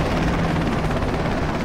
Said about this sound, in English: An American helicopter just flew over me, a medical evac helicopter.